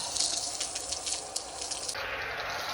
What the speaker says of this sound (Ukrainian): Ось спрацювало реле тиску. І напор просів до дебіту свердловини.